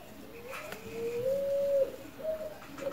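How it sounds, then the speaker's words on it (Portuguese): Pigeon or dove cooing somewhere nearby, a soft low rising coo followed by a couple of shorter quieter coos, faint against a hushed indoor background. "Ó, esse barulho de pássaro."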